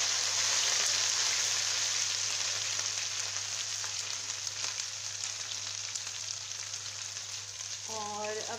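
Ginger and green chillies sizzle and crackle in hot oil with browned onions for Punjabi hotel-style saag, a steady close frying hiss throughout with a brief clink near the end.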